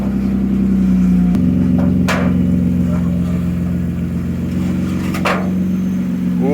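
A bagged BMW E36 drift car idles close by, its engine running loud and steady with a deep, even rumble that shifts pitch slightly after a second and then holds constant.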